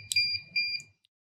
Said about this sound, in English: Your keypad should beep twice